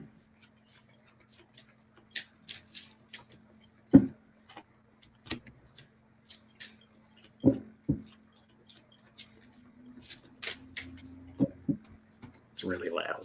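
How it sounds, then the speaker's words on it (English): Quiet clicks and soft flicks of tarot cards being shuffled, coming in irregular bursts over a low steady hum. "I have to shuffle my cards here."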